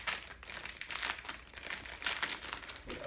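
Plastic packaging of a squishy toy being opened, crinkling and crackling in quick bursts, close and fairly quiet with no talking.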